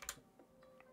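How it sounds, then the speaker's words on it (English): Fingers tap on a computer keyboard while typing in a game chat, giving a few faint, scattered key clicks at an irregular pace with no voices. "I don't know why I'm typing in chat."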